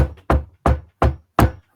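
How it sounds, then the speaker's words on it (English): Five firm, evenly spaced knocks on a front door ring out loud and close, each a sharp thud with a short decay, used as a tabletop game sound effect. "knocking on the front door."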